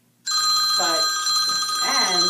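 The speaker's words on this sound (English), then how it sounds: "There's the bat phone. And there's the phone." A telephone rings in a live radio studio, loud and close, with a steady electronic ring lasting the whole short stretch and a voice talking briefly over it.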